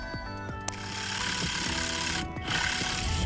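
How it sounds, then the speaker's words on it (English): A jigsaw cuts an arched handle opening in pallet wood for a milk jug caddy, a close, continuous, rapid buzzing chatter with a brief pause near the end before it resumes. "We'll cut that out with the jigsaw."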